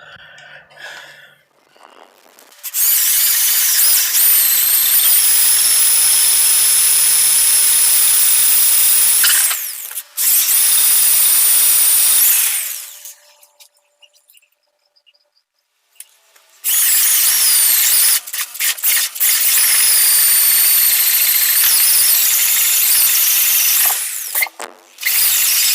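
A power tool cuts a tenon on a log post for a table base, loud high whining bursts of several seconds each separated by quiet pauses, close and harsh with no speech.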